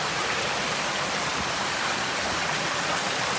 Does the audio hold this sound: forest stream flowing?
yes